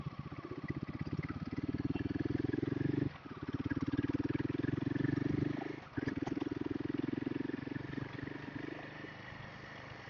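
A motorcycle carrying three riders, one resting a foot on the exhaust, rumbles steadily nearby with a throbbing engine drone, briefly dipping twice before rising again at the end.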